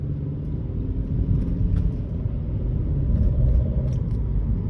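A 2012 BMW 118i M Sport with Steptronic automatic and a 2.0 engine that keeps cutting out accelerates from inside the cabin, giving a steady low engine rumble and road noise.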